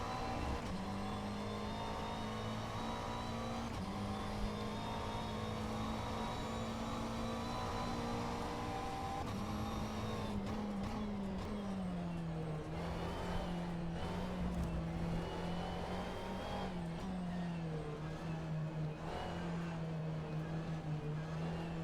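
A race car engine in the sim racing game Automobilista 2, droning steadily near high revs, then dropping and climbing again as the throttle is modulated through a tight right-hand corner, with continuous engine whine throughout.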